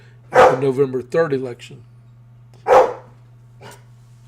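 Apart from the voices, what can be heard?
dog barking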